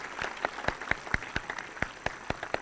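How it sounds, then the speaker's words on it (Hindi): A seated audience gives enthusiastic applause for young students reciting memorized Upanishads at a spiritual gathering, with steady sharp claps throughout, individual hand claps standing out close and crisp over the crowd. "एक बार जोरदार तालियां हो जाए भाई इनके लिए।"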